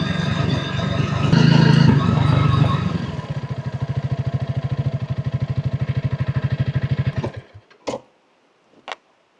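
A Honda CRF 300 Rally motorcycle engine runs close by, revving briefly, then settling into a steady, pulsing idle before cutting off, leaving a few faint knocks.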